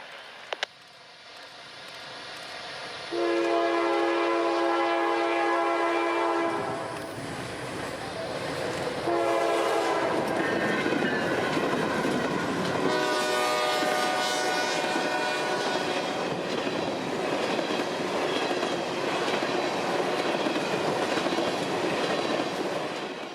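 A long train horn sounds twice, close and loud, over a heavy rolling rumble and the clatter of an ethanol freight train's rail cars steadily passing at Vitis Junction, Central Florida.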